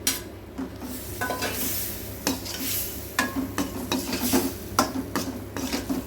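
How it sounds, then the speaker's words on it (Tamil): Potatoes are stirred into spices frying in a pan for a festive South Indian lunch, with repeated scraping and clanking of a utensil against the pan over a steady sizzle, close and fairly loud. "இப்போது இந்த உருளைக்கிழங்கு அதில் சேர்த்துக்கலாம்"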